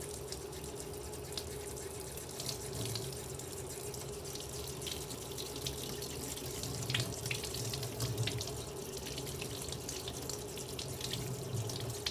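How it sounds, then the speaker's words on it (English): Hands scrubbed under a running tap with warm soapy water, a steady continuous rush of water into a sink, close and even throughout, with no voices. "When you're washing your hands, use warm soapy water."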